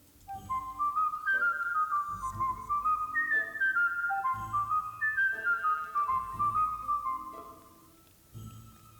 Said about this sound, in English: Why does his whistle sound like it's a penny whistle?